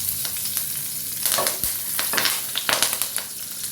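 Curry leaves fry in hot oil with fenugreek and dried red chilies for oats upma, giving a steady close sizzle broken by crackling pops and spatters and a few scraping stirs.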